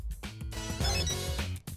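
Telephone ringing, a short electronic ring pattern with repeated tones, close and fairly loud, lasting under two seconds with no talk over it.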